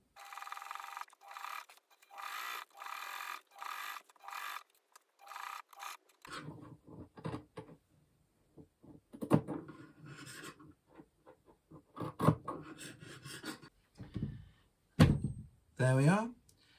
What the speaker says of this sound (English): We're going to stitch both front and back together.